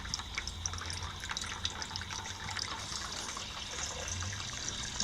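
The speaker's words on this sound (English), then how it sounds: "There's more water coming out." Coolant water trickles and splashes steadily as it drains out of a PC water-cooling loop during a CPU water block leak fix, a continuous close liquid flow with no speech.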